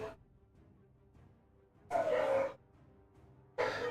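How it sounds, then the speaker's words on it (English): Dogs bark indoors in two loud, separate bursts, the first lasting about half a second and the second coming a moment later, over a quiet room background. "Pardon the dogs."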